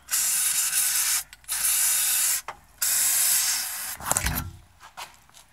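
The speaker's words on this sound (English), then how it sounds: "I'm gonna spray this door with the big sprayer" Fluid Film lubricant sprays onto a door latch in loud, close bursts of hiss, three long sprays with short gaps, followed by a brief clunk of the latch.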